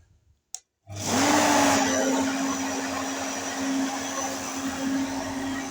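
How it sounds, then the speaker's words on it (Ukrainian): After a short click, a homemade aerodynamic grain winnowing separator built from a barrel starts up. Its fan motor whines up to speed and then holds a loud, steady whooshing roar close by. "Ну і вмикаємо."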